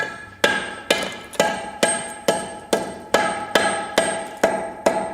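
A hammer strikes a soft concrete block, chipping it out piece by piece in about ten sharp, evenly paced blows, each ringing briefly and then fading, close and clear with no talk.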